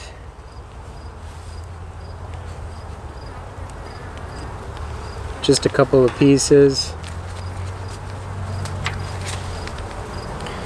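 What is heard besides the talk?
honey bees buzzing around an open hive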